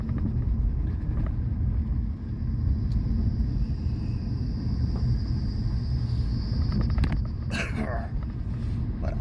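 A car drives on the Shimla to Janjehli mountain road via Suni and Rampur, giving a constant low engine and road rumble from inside the cabin, with a faint passing noise near the end.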